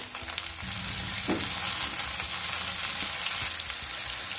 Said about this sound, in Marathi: एक बारीक कट केलेला टोमॅटो आपण यामध्ये टाकून घेऊया